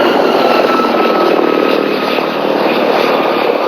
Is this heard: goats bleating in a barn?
no